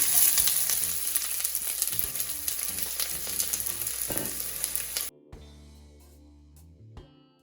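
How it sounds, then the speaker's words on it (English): Onions dropped into hot olive oil in a pot set a loud, steady sizzle for about five seconds, then it drops sharply to a quieter, softer frying hiss with a few faint clinks. "I'm going to go ahead and add my onions into my pot."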